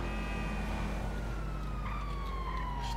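Police car siren in the video game GTA 5, a steady wailing tone sweeping slowly downward over dense engine and game noise, loud and continuous throughout.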